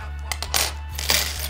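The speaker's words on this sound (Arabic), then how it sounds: "رومانيات عملات لآلاف السنوات." Ancient Roman gold coins found in the sea jingle against each other in a hand at Zuwara, Libya, producing repeated light metallic clinks close up above a constant low hum.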